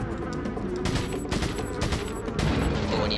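Bursts of TMP submachine gun fire in Resident Evil 4, quick rattling volleys over a steady droning game soundscape, moderately loud and without speech.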